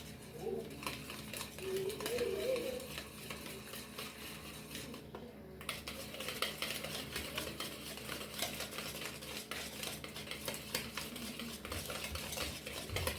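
Vanilla cake batter is whisked in a bowl in a soft, steady rhythmic stir, faint and close, with a short quiet gap midway.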